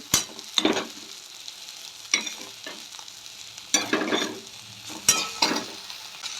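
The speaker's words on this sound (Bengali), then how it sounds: "এখন ওলট পালট করে সুন্দর করে ভাজা করব।" Torn pieces of bread tossed with fried egg in a hot pan, stirred and flipped in loud scraping bursts over a soft, steady sizzle, close by and without voices.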